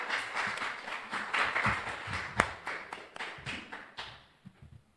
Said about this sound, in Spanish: un aplauso más para Esperanza